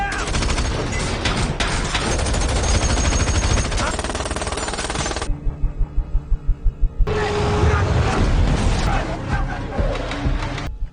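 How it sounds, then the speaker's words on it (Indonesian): Gunshots in a mafia action film scene: a fast, evenly spaced string of loud close shots stands out in a short gap within dense, loud music and film sound. "Tanpa disadari, Dakrim menembak Patrick dari belakang"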